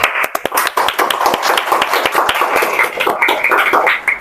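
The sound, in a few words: audience clapping hands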